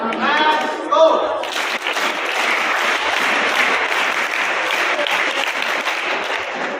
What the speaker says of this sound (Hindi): जोरदार तालियों से सभी का अभिनंदन